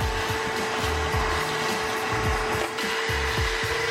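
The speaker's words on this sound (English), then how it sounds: "We're just gonna take the shop vac and just vacuum up the surfaced dirt and debris before we get to washing." A shop vac roars steadily while vacuuming loose dirt and debris from a car engine bay, with a constant motor whine and rhythmic rattling thumps as the nozzle knocks and drags over surfaces.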